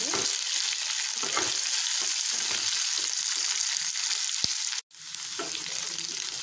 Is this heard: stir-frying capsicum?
yes